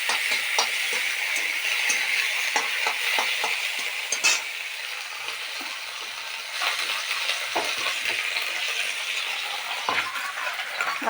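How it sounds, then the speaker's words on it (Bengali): Green chilli, bay leaf and coriander leaves frying in hot oil give a steady, close sizzle throughout, with a few brief utensil clicks and pops. "কাঁচা লঙ্কা আর তেজপাতা ফোড়ন দিলাম। দিয়ে এবার ধনে পাতাগুলো দিয়ে দিলাম।"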